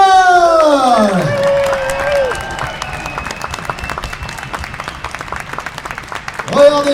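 Convention audience in Toulouse applauds and cheers for actor David Nykl, a dense burst of clapping with shouts, mixed with a voice at the start and again at the end.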